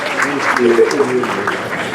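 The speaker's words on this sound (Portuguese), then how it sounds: "queria pedir também uma salva de palmas a esse dispositivo de honra incrível" Applause from the audience at a game jam award ceremony, a dense patter of clapping lasting two seconds with a voice speaking over it.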